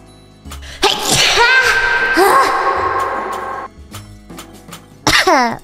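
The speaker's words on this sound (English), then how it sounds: "this stream is just me sneezing all the time." A young woman sneezes loudly and close up, one long drawn-out sneeze followed a moment later by a second, sharper one, with no talking around them.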